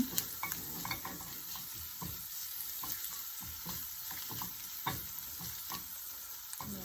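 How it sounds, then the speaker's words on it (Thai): Steady sizzling of ground pepper being stir-fried in a hot pan, with scattered scrapes and clicks of a utensil stirring throughout. "ก็เอาพริกไทยใส่ลงไป ผัดให้หอม"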